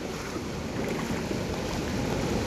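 Floodwater surging like sea waves at the Philippine General Hospital grounds: a loud, unbroken churning rush with wind buffeting the microphone throughout.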